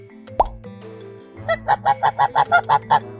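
A plop, then a gander honking loudly about ten times in a steady, rapid series of nasal calls, close by.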